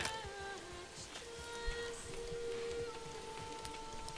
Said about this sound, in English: the supplies getting damaged by the weather because it's raining